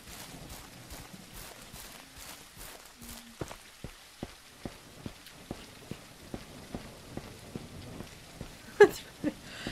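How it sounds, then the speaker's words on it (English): Rain falls steadily and softly in the video game Sammy Jukes Twin Lakes, with a faint patter joined by a regular series of distinct thuds like footsteps stepping through the wet ground. "It's pouring down the rain."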